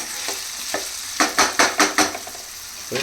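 Spoon scraping and stirring bottle gourd curry in a sizzling pan, a steady run of five rhythmic close strokes over a faint fry, with no talking.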